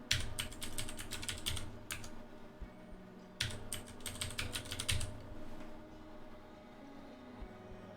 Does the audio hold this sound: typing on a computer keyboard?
yes